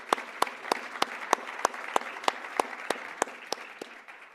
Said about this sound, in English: Shall we please give Namibia a massive round of applause?